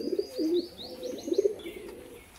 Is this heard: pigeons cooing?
yes